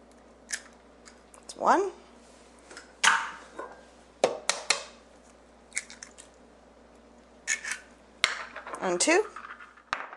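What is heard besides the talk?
two eggs being cracked and added to cookie dough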